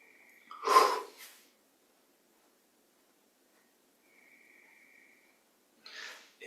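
A forceful nasal exhale bursts out, then a short follow-up breath, a long quiet pause, and another breath near the end, during a guided Yogoda breathing and meditation exercise in a quiet room.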